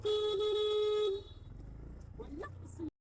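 A loud, steady car horn blares for about a second, then cuts off and gives way to muffled road noise and indistinct voices.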